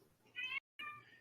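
A person imitates a cat's meow during a tabletop role-playing game: two drawn-out, tonal mewing calls split by a short silence, close and fairly loud.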